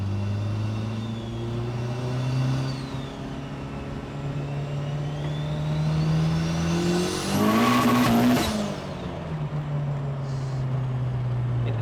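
Turbocharged 1.8 20V VW Golf Mk1 engine revs and changes pitch through gears, rising to a loud high-revving peak with brief tyre squeal before settling back into a steady drone.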